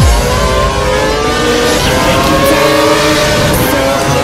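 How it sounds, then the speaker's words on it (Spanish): Formula One race car engine at full throttle in a racing video game, a loud, steady high-pitched whine holding constant with no pauses or speech. "Está exprimiendo el motor al máximo."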